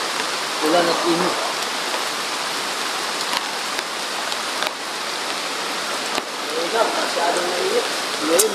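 Heavy tropical rain falls on an island setting as a steady, dense broadband hiss that swells slightly near the end, with faint voices briefly audible under the downpour.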